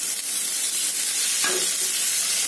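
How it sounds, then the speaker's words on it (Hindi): Onion, potato and chickpea dosa stuffing fries in a pan, giving a continuous bright sizzle with a brief stir or scrape midway through. "सबको फ्राई कर लेती हूँ"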